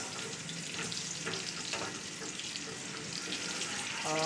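Dal tempering with Kashmiri red chili being stirred in a pan, giving a steady broadband sizzle with faint scraping strokes throughout, no voices.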